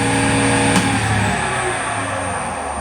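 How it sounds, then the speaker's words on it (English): A dual-speed wood lathe turns a burl vase with a steady, continuous motor hum and whirring, loud and close, with no talking. "I've got a dual speed lathe, and I can change the belts."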